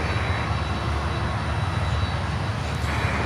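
An American Airlines Boeing 737-800 arrives at Miami airport with a steady, moderately loud engine roar and low rumble that holds even across the short stretch.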